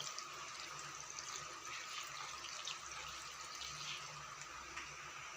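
Water poured into a cooking pot of avial, a faint steady stream of splashing and trickling running continuously with no voices.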